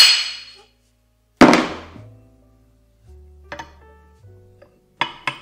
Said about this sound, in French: je redonne un choc